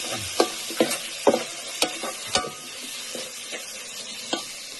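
Chopped tomato goes into a pan of frying spice mix for a country-style chicken curry, with a low steady sizzle broken by sharp spoon clacks as it is stirred.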